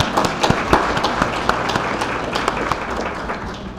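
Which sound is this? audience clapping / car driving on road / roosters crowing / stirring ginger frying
audience clapping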